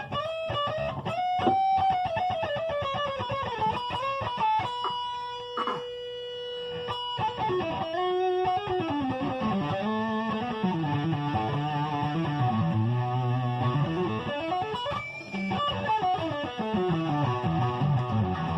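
An Ibanez RGQM9 nine-string electric guitar plays distorted lead lines on its neck pickup, with sustained bent notes, slides and fast runs, loud and close with no talking.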